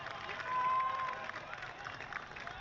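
A cricket stadium crowd cheers and roars in a broad, swelling wash at a distance, with a commentator talking over it.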